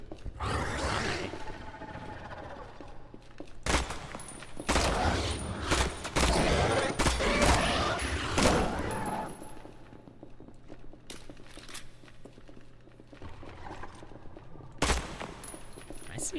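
Video game gunfire in Project Silverfish, fired through metal grates, with sharp shots and bursts repeating in clusters over a roaring background, plus fainter footsteps.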